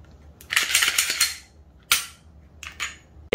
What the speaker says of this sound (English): So we will remove this and replace the lighter firing pin spring and the trigger connector.